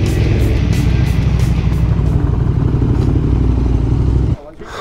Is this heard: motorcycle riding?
yes